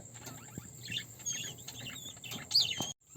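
Fantail pigeons in a loft give soft, scattered coos and chirps, fairly close and low in level, with fluttering and shuffling noises throughout and a brief louder call near the end.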